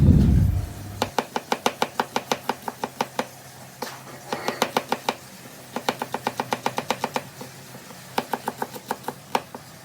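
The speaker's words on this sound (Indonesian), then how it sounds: "ini aku mau lanjut untuk iris si bawang merah sama bawang putihnya" Knife chopping shallots, garlic and chilies on a cutting board at home: a long run of quick, crisp, evenly spaced taps in bursts, close and clear, without talk.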